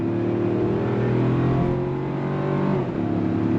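A 2025 Toyota 4Runner TRD Sport Premium with a 2.4-liter turbocharged engine and 8-speed automatic accelerates, a steady mid-loud engine drone heard from inside, rising smoothly in pitch with a brief dip near the end.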